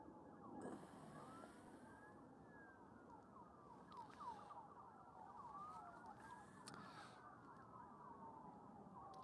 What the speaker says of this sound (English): All kinds of sirens.